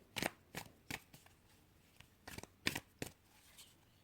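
A Puppet Theatre Tarot card deck is shuffled by hand in several crisp, papery riffles and slaps with short pauses between them. The sound is close and quiet, with no talking.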